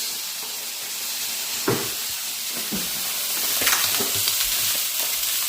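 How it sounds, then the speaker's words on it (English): Chicken and Indomie noodles sizzle in an electric skillet with no cooking oil, giving a steady close hiss broken by a few soft clunks and scrapes. "Now just dump it in the electric skillet."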